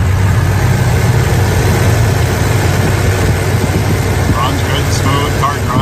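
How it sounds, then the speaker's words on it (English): A muscle car engine runs at a steady idle, close and loud, with a constant low rumble and no break throughout. "Let's take a listen to the engine."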